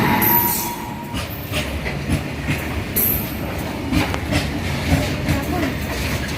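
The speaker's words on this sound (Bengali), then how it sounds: "একটা ট্রেন ঢুকছে, ওই জন্য ট্রেনটা ঢুকছে" A train rolls slowly into a station near a temple, a steady rumble of wagons with wheel clatter and occasional high squeals, continuous and fairly loud throughout.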